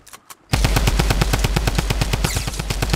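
Rapid automatic gunfire in the Fortnite Battle Royale video game starts abruptly after a brief quiet pause and continues as a loud, fast, evenly spaced burst of shots for the rest of the clip, with no talking.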